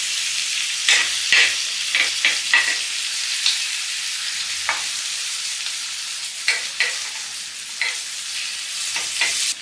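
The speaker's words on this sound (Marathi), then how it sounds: "तर आता दुसऱ्याही साईडने आपल्याला कुरकुरीत असे भाजून घ्यायचे आहेत" Mung dal appe fry in butter in an appe pan, a bright steady sizzle with intermittent crackling pops and light scraping as they crisp, close and fairly loud.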